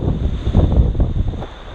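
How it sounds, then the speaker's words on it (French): Steady wind buffets the microphone on a hike up toward Vinciguerra Glacier near Ushuaia in Argentine Patagonia, a continuous low roar with gusty swells that fills the whole stretch, no voices. "On a un peu plus de prise au vent là."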